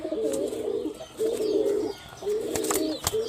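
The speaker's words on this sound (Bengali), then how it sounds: "কালো চোখের একজোড়া জাগ কবুতর দেখাচ্ছি।" A pair of black-eyed Jack pigeons coo in three drawn-out, throaty phrases, close and clear, with faint clicks and rustles between calls.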